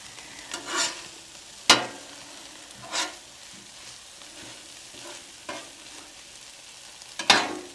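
Corned beef hash fries on a flat griddle, a soft steady sizzle broken by a few sharp scrapes and clinks as a spatula turns and stirs it, heard close with no talking.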